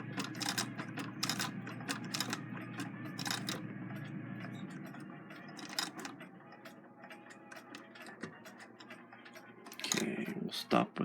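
Singer 66 lock-stitch sewing machine sewing fabric, a rapid ticking, clattering mechanical rhythm that runs steadily for several seconds, then slows into scattered clicks and knocks, ending with a louder clunk.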